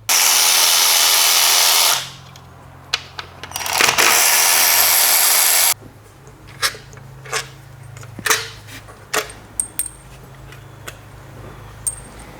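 A power tool spins out the 10mm intake bolts and nuts on a Nissan Pathfinder 3.5L V6 in two loud, sustained whirring bursts, followed by scattered sharp clicks and clinks of parts close by.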